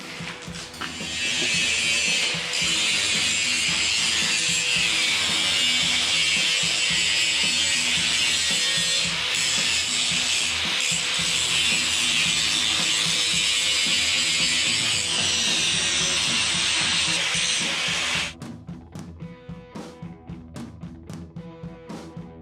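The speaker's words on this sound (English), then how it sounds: "Basically just a grinder. So I'll basically just be taking off the corner and chamfering it." An angle grinder chamfers the corner of a metal piece for a motorcycle sissy bar build, giving a loud, steady, high buzzing whine for about sixteen seconds before it cuts off, leaving quieter clicking.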